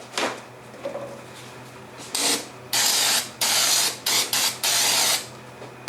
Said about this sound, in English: I'm gonna spray it on the rag.